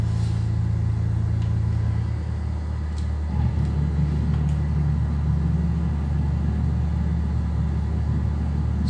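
Steady loud engine drone and low rumble inside a Cessna 172 as it lands on the runway, the engine tone shifting slightly around touchdown with faint bumps, continuous throughout.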